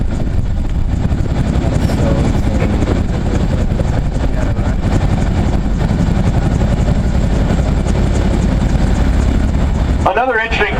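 A military helicopter at a SOFIC 2012 special operations demonstration gives a loud, continuous rotor and engine roar close by. The roar cuts off near the end, with some voices in the mix.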